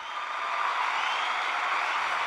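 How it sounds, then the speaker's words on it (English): Applause from an audience at the close of a podcast segment, a dense, steady patter of clapping that holds evenly at moderate loudness throughout. "please give one more time a huge round of applause for Kingsley Seale"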